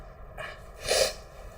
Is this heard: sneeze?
yes